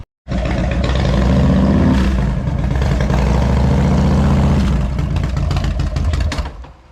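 The engine of a custom 1997 Harley-Davidson Heritage Softail with a carburetor runs loud and close, a steady throbbing rumble that holds for several seconds before cutting off abruptly.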